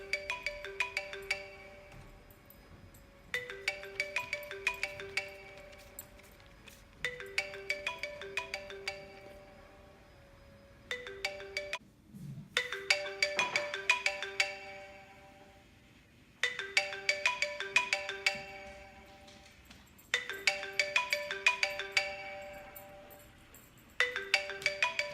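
A phone ringtone plays over and over in repeated bursts of a bright melodic chime with short gaps between them. It sounds moderately loud and fairly close, with no talking.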